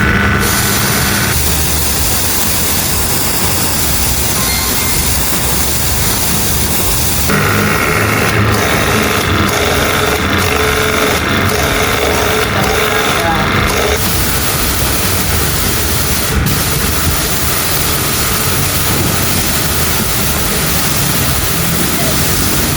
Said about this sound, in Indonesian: Mesin sudah menyala dan tekan tombol otomatis.